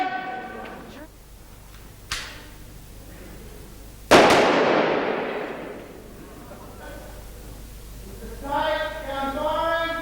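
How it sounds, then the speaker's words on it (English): A gun fires once with a sharp, loud crack and decaying echo on a film set, following a fainter earlier pop, while people talk before and after the shot. "Gun firing."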